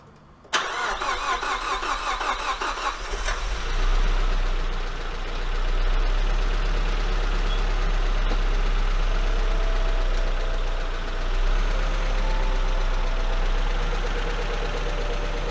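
A Nissan S13 200SX cranks briefly, then fires up and settles into a steady, loud idle that keeps running with slight fluctuations, recorded close on an onboard mic of a DIY project car before its first drive.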